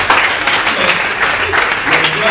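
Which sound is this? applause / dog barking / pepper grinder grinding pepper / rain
applause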